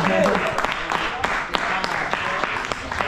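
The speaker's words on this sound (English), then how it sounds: "Applause for all of the kids." An audience applauds the kids at a Nairobi premiere of a Kenyan horror film, a dense crackle of clapping with a few sharper claps, steady under nearby talking voices.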